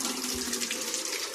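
Water gushes steadily from a tap through a connected hose at strong pressure, a loud continuous rushing hiss that stays close and unbroken.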